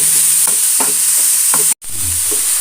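Chopped beans and vegetables sautéing in a pan over a bright, constant hiss of frying, with several soft rhythmic scrapes of a spoon and a brief dropout near the end.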